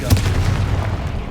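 A Confringo blasting spell bursts in Hogwarts Legacy with one sharp, loud boom at the start, then a rumbling low tail fading over about a second.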